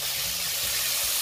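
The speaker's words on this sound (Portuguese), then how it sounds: "Quando a linguiça está fritando e o óleo começa a queimar, você pega e joga um pouquinho de água" Sausage fries in hot oil in a pan as a little water hits it, giving a brief burst of steady, bright sizzling hiss.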